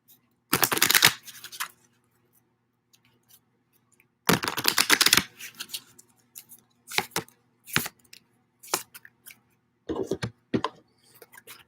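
A deck of tarot-style cards is shuffled in two loud riffling bursts, followed by softer scattered taps and flicks as the cards are squared and handled, close by in a quiet room.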